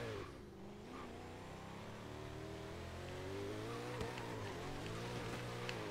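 A modded Bugatti Veyron accelerating hard in Forza Horizon 3, with a loud, steady engine drone rising gradually across the whole stretch and no talking over it.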